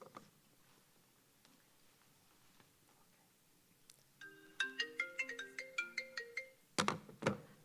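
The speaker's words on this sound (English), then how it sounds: "how offsetting was that phone ring" A melodic phone ringtone plays a quick run of bright, stepped electronic tones in a hall during a pitch competition event, followed by a few sharp clattering hits, with quiet room ambience before it.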